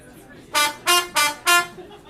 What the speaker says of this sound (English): if you put this trumpet mute inside the trombone, you still get that straight mute sound